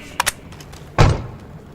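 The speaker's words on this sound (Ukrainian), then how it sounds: "Двері посуваються!" A heavy door grinding and sliding in Metro Exodus, with two short knocks early on, then one loud rumbling slide that fades out over about a second.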